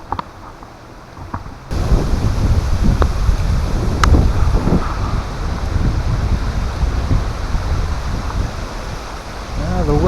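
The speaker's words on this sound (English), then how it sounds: "The wind's coming from that way, blowing in here." Wind gusting against a partly exposed tent at a wild campsite, a steady loud roaring rush with buffeting bursts, the rumble filling the low end throughout after a quieter opening second.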